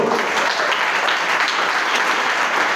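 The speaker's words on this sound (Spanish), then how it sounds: "que usted pueda aplaudir al Señor" A church congregation applauds, a dense, steady roar of many hands clapping together, loud and sustained throughout with no distinct voices above it.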